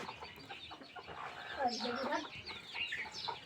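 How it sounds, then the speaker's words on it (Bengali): A native hen brooding on her eggs clucks close by in a run of soft, throaty calls, with a voice faintly present alongside. "এটা দেশি মুরগি"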